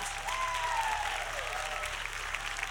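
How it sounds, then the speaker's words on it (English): Steady applause from a crowd at the Rainbow Six Siege Operation Para Bellum reveal, a dense wash of clapping that holds evenly throughout with a faint whistle-like tone gliding over it. "Please give a big round of applause."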